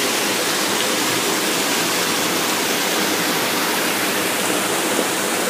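A powerful river rushes past an old grist mill, giving a loud, steady, unbroken roar of water that fills the whole stretch.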